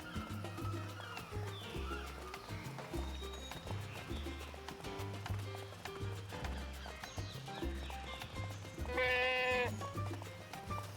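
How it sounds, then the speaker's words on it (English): A goat bleats once, a quavering cry near the end, over looping game music with rhythmic percussion in Tropico 3. "Is there a random goat somewhere in the jungle?"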